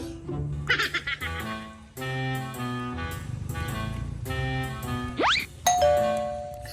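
A chiming doorbell plays its ding-dong melody several times, clear and close, with a brief rising squeal near the end.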